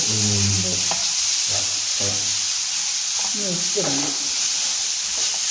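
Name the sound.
onions frying in a pan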